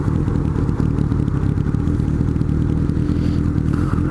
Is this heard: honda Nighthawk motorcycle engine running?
yes